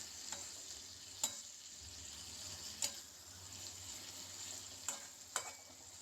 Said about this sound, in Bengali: দেখো, তেলটা দিয়ে আমি আবার একটুখানি ভাজা ভাজা করে নেব।